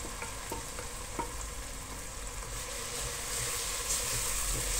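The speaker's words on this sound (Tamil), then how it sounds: "இஞ்சி பூண்டு சேர்த்த அப்புறமும் அதையும் ஸ்லோவாக மீடியம் ஹீட்லேயே வச்சு நல்லா வதக்கிக்கோங்க" Ginger garlic paste sizzles steadily with onions over medium heat for a mutton biryani. The frying hiss is constant and close, with a few soft stirring scrapes and no voices.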